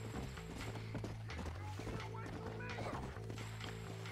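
Horse hooves clip-clop in Red Dead Redemption, a steady rhythmic clatter under dense game music and ambience, with talking mixed in throughout.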